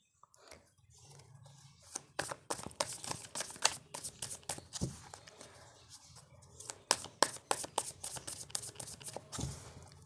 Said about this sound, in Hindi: जब तक हम कार्ड शफल करेंगे